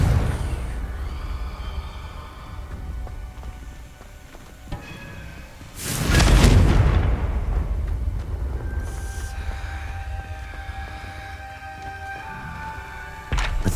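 A Confringo fire spell blast in Hogwarts Legacy, one loud, broad whooshing burst midway that fades into a rumbling tail over quieter game ambience.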